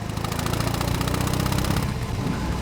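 BMW R18 first edition motorcycle, a big boxer twin, idling with a deep, steady low rumble and a fast pulsing beat, close and loud, with no voices.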